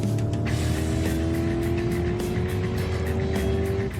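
Car speeding past on a wet road in the rain, a loud continuous rush of tyre spray and engine roar with a rising whine, close and steady with no voices.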